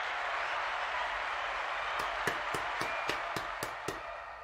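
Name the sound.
applause for the winners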